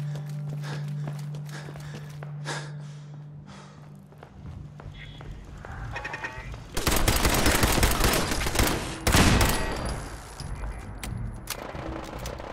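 Gunfire in the video game Fallout 4, a burst of loud shots around the seven-second mark and again near nine seconds, over a steady background of in-game ambience and footsteps.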